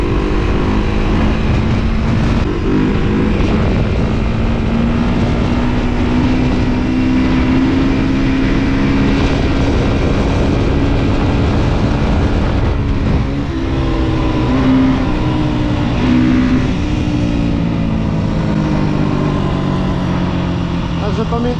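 An enduro motorcycle revs up and holds high engine speed through a wheelie, its rising, buzzing whine loud and close, dipping and climbing again, with voices talking over it.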